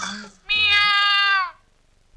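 A cat lets out a single drawn-out, whiny meow lasting about a second, clear and close, with a brief murmur before it and silence after.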